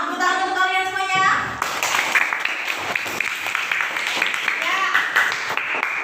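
Classroom audience clapping after a group presentation, a short burst of applause following a teacher's spoken thanks, with voices mixed in.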